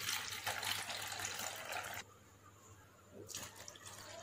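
Washing water is poured off large sago pearls in a kitchen, a close splashing pour that stops abruptly, then a shorter trickle resumes.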